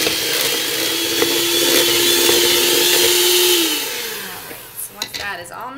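An electric mixer whirs steadily through coffee cake batter with sour cream, then winds down as its pitch drops, followed by a few soft knocks and clatters.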